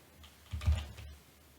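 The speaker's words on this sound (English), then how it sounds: "keeping the hands on the keyboard, you can just press F2 like this" A single press of the F2 key on a computer keyboard, a soft, short keystroke click heard alone and close in a quiet room.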